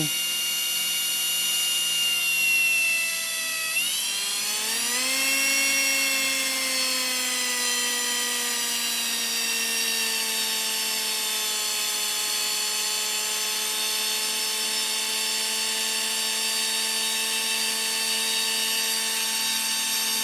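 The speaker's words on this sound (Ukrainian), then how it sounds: "Слухайте, як роботу моторчик." An Einhell TE-CD 18 Li BL cordless drill motor whines steadily, rising in pitch as it spins up, then holding a constant high buzzing tone, close and loud throughout.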